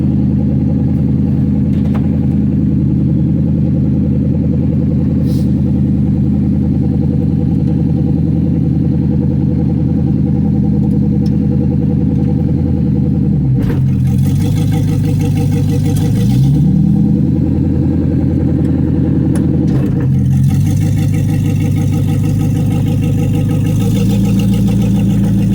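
A 1949 Studebaker truck engine runs steadily, then revs up and eases off in a couple of swells as the truck pulls away for a short lap; the engine is loud and close, with no talking.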